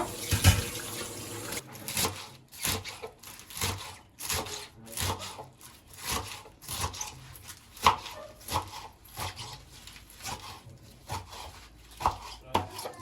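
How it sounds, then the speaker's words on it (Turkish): Salad greens being washed under running tap water at a kitchen sink, with repeated rustling, rubbing and splashing of the leaves in sharp, close bursts over a steady faint stream. "Yeşilliklerini yıkıyor"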